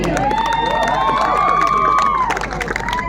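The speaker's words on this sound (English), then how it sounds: "A huge round of applause for Basanti ji." A crowd at a marathon prize ceremony cheers and applauds the oldest woman runner, with loud sustained whoops and shouts over scattered clapping.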